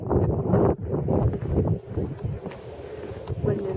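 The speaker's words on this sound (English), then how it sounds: "Wind in the grass." Wind sweeping through grass in a wooded area, a steady rushing gust with buffeting noise close to the microphone, rising and easing over a few seconds, with a few faint voices.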